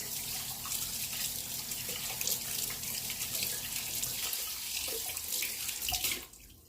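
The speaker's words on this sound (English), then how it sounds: "Let me rinse my hands quickly." A kitchen tap runs as hands are rinsed under it, a steady close splashing rush that stops abruptly near the end.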